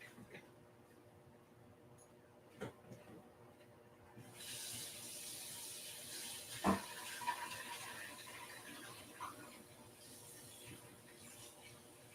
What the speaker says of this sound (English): All right, wash your brush.